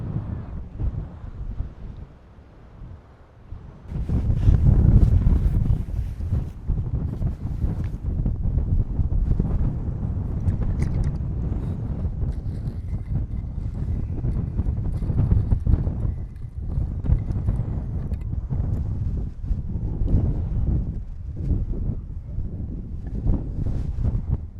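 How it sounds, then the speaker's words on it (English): Wind gusts across a hilltop on the Twin Peaks hike on Skiathos, buffeting the microphone with a loud, low, continuous rumble that swells and dips for over twenty seconds. "A little bit breezy up here."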